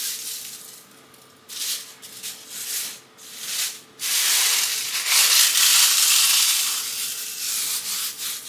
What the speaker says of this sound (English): I'm going to just kind of crunch them up with my hands